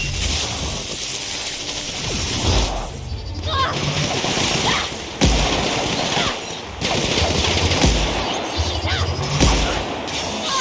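Sustained gunfire in the video game The Outer Worlds, rapid loud bursts with sharp booms, running under a voice talking.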